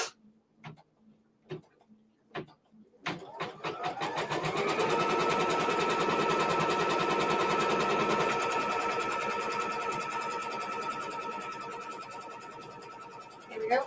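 A sewing machine tacks a piece of quilt fabric down: a few separate clicks and taps at first, then a close, steady whirring run of stitching that slowly winds down.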